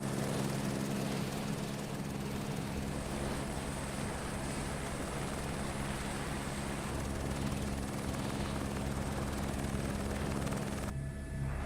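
A helicopter engine in Microsoft Flight Simulator 2024 runs with a steady, loud droning whir and rotor hum, unbroken and with no talk.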